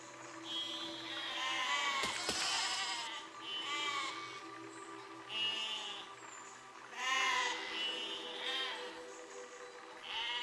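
Sheep bleating in the video game Besiege, several wavering calls repeating at intervals across the clip, fairly close and clear over a low steady background hum.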